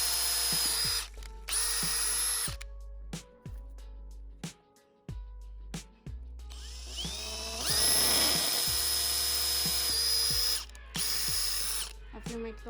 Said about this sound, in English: So now wherever you place your mark, you're gonna go ahead and drill.